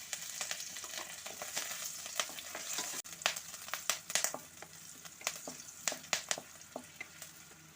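Green chilies and garlic fry in hot oil, a continuous sizzle and crackle broken by sharp spatters and pops, with occasional stirring, and no voices.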